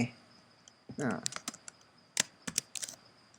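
Key clicks from typing on a computer keyboard while entering a short word into a Python program's input prompt, a quick scatter of sharp taps beneath a brief spoken word and light background hiss.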